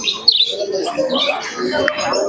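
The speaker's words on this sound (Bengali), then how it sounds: "এই একটা কবুতর আছে ম্যাড্রাস মানে চোখ দেখুন খুবই সুন্দর কোয়ালিটির কবুতর আছে" Pigeons at a busy pigeon market in Shantipur give short, close chirping calls and soft coos, mixed with nearby voices and crowd chatter.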